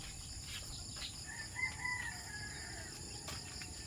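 A rooster crows once at a farm around sunrise, a faint, distant drawn-out call above steady insect buzz and outdoor hiss.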